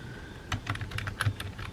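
Computer keyboard typing: a quick run of light, irregular key clicks, close and clear, alone with no voices.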